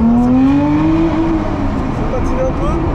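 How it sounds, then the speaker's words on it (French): A Lotus Emira sports car accelerates hard on a cold road, its engine note climbing steadily in pitch, loud and close, with the tires slipping slightly. "Petite accélération."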